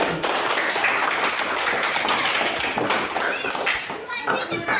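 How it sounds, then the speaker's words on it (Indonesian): Schoolchildren in a classroom clapping for a group after its presentation, loud and close, with a lively patter of hands mixed with children's voices talking over it. "tepuk tangan dulu untuk kelompok 1"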